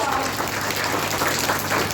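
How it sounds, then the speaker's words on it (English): Audience at a school kindergarten class assembly applauding: a steady, dense wash of clapping from many hands that lasts the whole moment, loud and close. "special round of applause for the class teacher"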